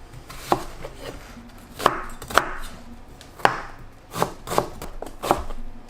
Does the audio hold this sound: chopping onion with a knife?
yes